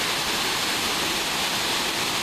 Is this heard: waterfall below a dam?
yes